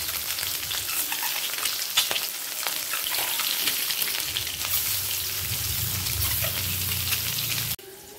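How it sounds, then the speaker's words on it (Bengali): Eggs frying lightly in mustard oil give a steady, close crackling sizzle with occasional pops, holding at an even level until it cuts off abruptly near the end. "ডিমগুলোকে হালকা ভেজে নেব।"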